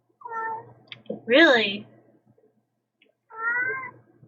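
A house cat meows three times, the middle call long and rising, with someone briefly speaking between the calls, close and clear.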